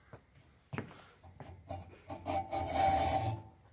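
A file rasps a string slot into a guitar nut for a six-string guitar, with short, quiet scraping strokes that grow into a steadier back-and-forth rasp.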